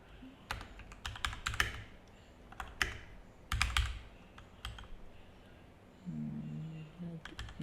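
Python code typed on a computer keyboard, quick clusters of crisp key clicks with short pauses between bursts, close and alone.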